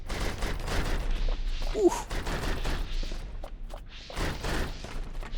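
Turrets open fire in the video game Dream Engines: Nomad Cities, a dense barrage of overlapping gunshot bursts and thuds running throughout, with a brief spoken exclamation partway through.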